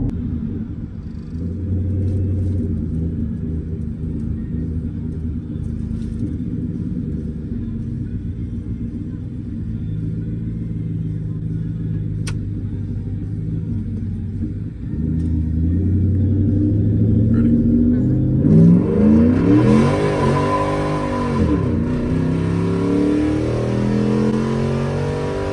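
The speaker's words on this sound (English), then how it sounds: "Giant burnout" Twin-turbo Coyote-powered Ford F-150 pickup doing a giant burnout: a steady loud engine rumble, then the revs climb into a harsh, roaring surge with swooping pitch as the tires spin.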